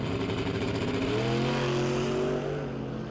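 Drag racing car launching hard into a wheel stand at a strip, its engine roaring loud and close with a rising, sustained howl that fades slightly at the end.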